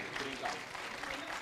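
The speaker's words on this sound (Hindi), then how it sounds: "मैं चाहता हूँ सारा सदन एक बार जोरदार तालियां बजाएं प्रियंका राय के।" Audience applause at a Hindi poetry gathering in Rohini, a steady broadband clapping wash filling the whole short stretch at even loudness, with a faint voice underneath.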